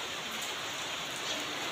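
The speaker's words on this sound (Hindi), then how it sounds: "आज मूसलाधार बारिश आप बोल सकते हो।" Heavy torrential morning rain falling outdoors, a dense continuous hiss of drops on surfaces, even and fairly soft, heard alone without speech.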